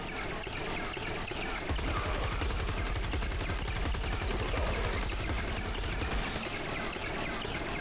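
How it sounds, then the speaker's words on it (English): Rapid automatic gunfire in Fortnite as the player keeps shooting at a high power level mini boss in a dungeon, a dense sustained burst of shots over game ambience through most of the stretch. "Now he'll keep following you around, and you just keep shooting at him."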